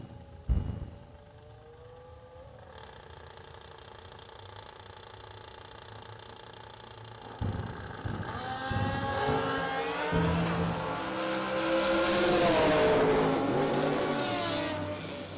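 At a drag strip, a Hayabusa motorcycle and a dragster sit at the line, with a steady idle that swells into a loud, rising roar of engines revving and launching, growing louder toward the end.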